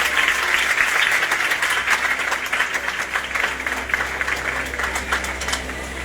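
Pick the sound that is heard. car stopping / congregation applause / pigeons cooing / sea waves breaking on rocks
congregation applause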